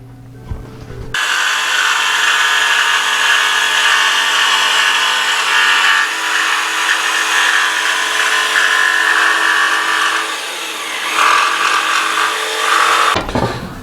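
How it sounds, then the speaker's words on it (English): A jigsaw cuts the curved front of a wooden drawer with a steady, close buzzing rasp that runs almost unbroken for about twelve seconds before stopping abruptly. "so we got to cut that out now with the jigsaw."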